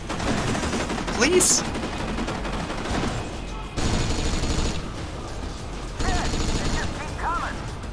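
Gunfire in Kane & Lynch: Dead Men, bursts of automatic weapon fire and scattered shots with a few gaps, loud and close, while a voice speaks briefly.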